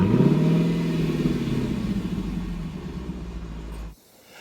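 A BMW M3 Competition with xDrive gives a deep engine rumble that rises in pitch and then settles to a steady drone before cutting off abruptly near the end.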